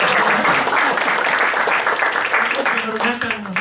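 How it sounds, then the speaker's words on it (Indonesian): An audience welcomes guests with a round of applause, dense clapping holding steady for a few seconds, with some voices mixed in underneath. "Tepuk tangan dong, saudara."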